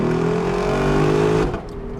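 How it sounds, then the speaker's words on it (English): A Lexus LC 500 sports coupe's V8 engine gives a strong, steady drone that rises slightly and then drops off abruptly near the end, loud and close with no voices. "the sound of the engine"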